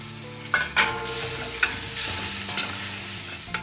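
Chicken biriyani masala cooking in a covered pan over a low flame, a steady soft sizzle with a few clinks of a spoon or lid, close by and with no talking.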